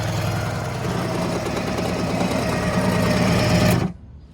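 Kawasaki JS550 SX jet ski engine with a broken-loose impeller cranking on its electric starter, spark plugs out. A steady, close whirring drone runs for nearly four seconds, then stops abruptly.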